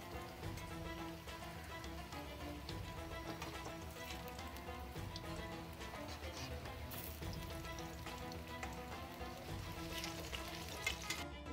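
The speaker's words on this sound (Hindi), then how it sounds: "देखिए दोनों तरफ से हमारी भजिया सिके गई है, अच्छे से फ्राई हो चुकी है" Arbi leaf pakoras (bhajia) deep-frying in hot oil, a steady dense crackling sizzle that runs unbroken throughout with small pops, close and fairly loud, no voices.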